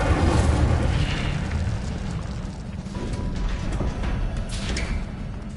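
A fire spell cast in a Harry Potter video game, heard as a continuous roaring, crackling burst of flame with a low rumbling body that holds steady for several seconds and swells again toward the end.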